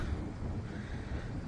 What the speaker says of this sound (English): Whew, it's windy though.